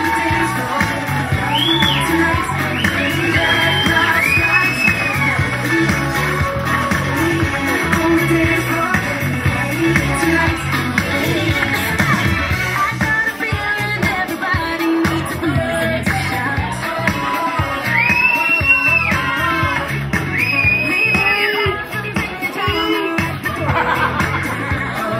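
An audience at a community awards evening cheers and applauds at length, with whoops, shouts and laughter rising from the crowd throughout.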